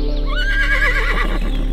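A horse gives one loud, close whinny with a quavering, falling pitch, heard alone.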